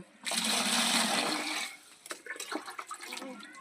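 Water gushes into a bucket in a loud, steady rush for about a second and a half, then gives way to lighter splashing and clattering as the pour ends; no one speaks.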